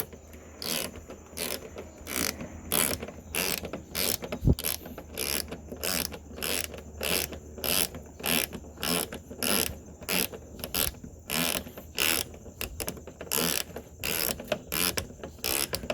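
A 13 mm ratchet tightens the liftgate strut bolts on a 2003-2009 Toyota 4Runner, clicking in steady, loud bursts of fast ratcheting strokes over about sixteen seconds, close by.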